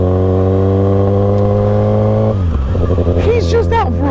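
A motorcycle engine holds a steady droning idle, then drops and revs in sharp rising and falling bursts near the end, loud and close.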